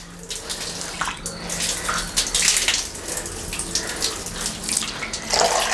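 Water is poured and splashes across a bathroom floor during rinsing, a continuous gushing spatter close by that swells and eases with no talking.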